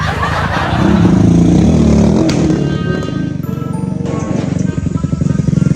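A nearby motorcycle engine roars and revs, loud and rumbling, with some laughter and chatter around it.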